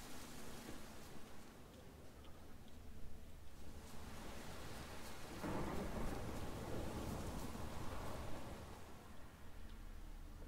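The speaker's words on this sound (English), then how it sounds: "A storm." Thunderstorm ambience in the video game The Witcher 3: Wild Hunt, a steady wash of rain-like noise with a deeper rumbling swell of thunder building midway and lingering, with no talk over it.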